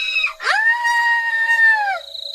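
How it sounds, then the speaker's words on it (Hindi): A woman's loud, sustained cartoon horror-story scream, shrill and wavering, held for nearly two seconds after a brief sharp onset, alone with no talk around it. "पर कुछ देर बाद हेमा की बहुत तेज चीख आती है"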